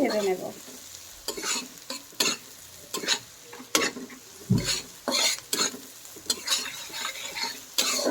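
Chopped onions and green chilies fry in hot oil in a pan for a broiler chicken curry, with a steady sizzle. A spoon scrapes and knocks against the metal in repeated irregular strokes, close up and with no talking.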